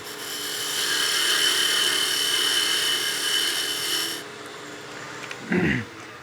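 A skew chisel peel-cutting across end grain wood on a lathe gives a steady, close rasping hiss for about four seconds, then stops abruptly, followed by a brief low thump and scrape near the end.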